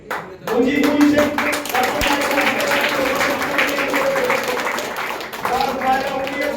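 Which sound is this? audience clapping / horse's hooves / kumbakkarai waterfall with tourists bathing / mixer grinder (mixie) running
audience clapping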